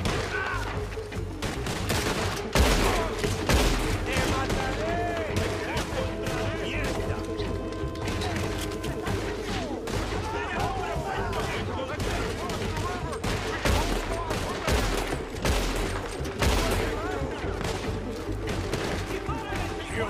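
Dense, continuous gunfire in the Red Dead Redemption 2 video game, rapid overlapping shots and crashes forming a loud, sustained barrage with faint speech mixed underneath.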